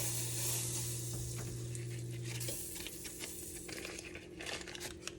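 Mushrooms sauteing in a butter-coated pan for a bacon and cheese stuffed dish, a close, steady sizzle with soft crackles and stirring scrapes, and a low hum that fades midway.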